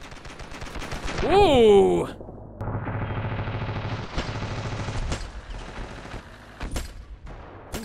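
Sniper rifle gunshots in the Ravenfield video game, several sharp separate cracks spaced across the stretch among other game noises, while a voice exclaims briefly near the start.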